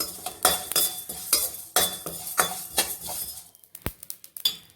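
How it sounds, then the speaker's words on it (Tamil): Fennel and cumin seeds roast dry in a pan, stirred with a utensil that gives close, irregular metallic scrapes and clinks over a faint background hiss. "இப்போ சோம்பு ஜீரகத்தையும் வறுத்துக்கிறலாம்."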